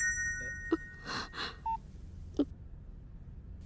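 A telephone being dialed, a few short isolated keypad tones spaced apart with near silence and faint breathing between them.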